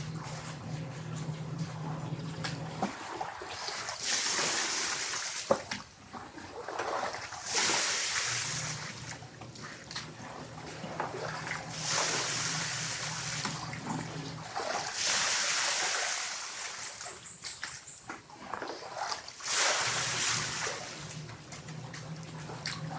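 Water splashing and pouring in repeated bursts during rinsing, soft and fairly close, with quiet gaps between pours and no voices.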